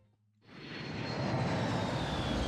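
Airplane in Pokemon Scarlet: The Teal Mask, arriving in the land of Kitakami, swells from near silence into a loud, steady, broadband engine roar with a faint high whine, sustained close and alone.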